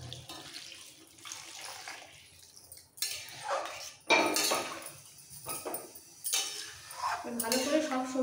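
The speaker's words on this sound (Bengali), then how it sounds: "একটু বেশি করে গরম জল দিয়ে দিচ্ছি।" Hot water poured into a pot of South Indian sambar comes in several splashing bursts between quieter stretches, with clinks of a metal pot and utensils close by and a voice speaking at moments.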